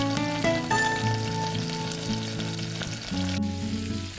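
Chopped vegetables fry in a small miniature pan for masala Maggi noodles, giving a steady, close sizzle with light stirring. No one speaks.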